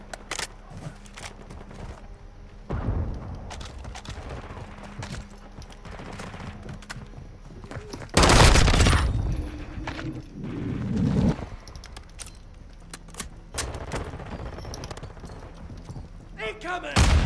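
Gunfire in a Call of Duty match, bursts of shotgun blasts and rapid automatic fire scattered among game sounds, with louder close volleys in the middle and a player talking over it.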